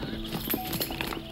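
Horse hooves clip-clop during riding practice, a short run of hoof falls mixed into a busy scene with voices and music over them.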